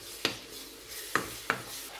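A salted potato mixture being stirred in a pan for a gratin potato roll: three short, soft scraping strokes spaced irregularly, fairly quiet and close, with no talking.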